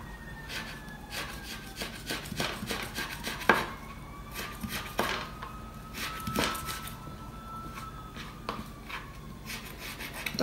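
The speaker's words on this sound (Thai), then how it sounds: "จะมาหั่นเปลือกส้ม" Knife chopping orange peel finely: a steady series of sharp, close cuts with an uneven rhythm, some louder knocks against the board, and no speech.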